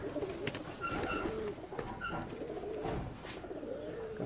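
Domestic pigeons of a breeder's rooftop flock coo softly in low, repeated throaty calls, faint and fairly close, with no talk over them.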